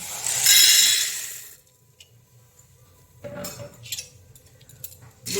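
Roasted kalai lentils being stirred in an empty pressure cooker, a bright rattling scrape of dry grains against metal for about a second, then quieter intermittent clinks and scrapes.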